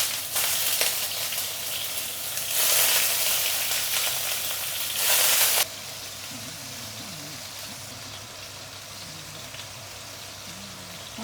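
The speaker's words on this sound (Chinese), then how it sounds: "这个干贝煎一下。" Dried scallops fry in a pan with a loud, hissing sizzle that surges in bursts for several seconds, then settles into a quieter, steady crackle.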